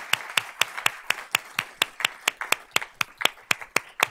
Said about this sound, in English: So let's give Eliza a round of applause.